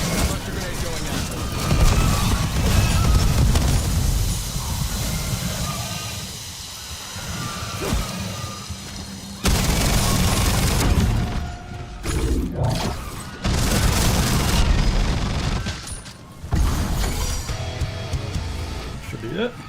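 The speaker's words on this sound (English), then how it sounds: "Cluster grenade going out." Cluster grenade explosions in a video game come as dense, loud bursts of crackling blasts and hiss, broken by short gaps, with a voice talking over them.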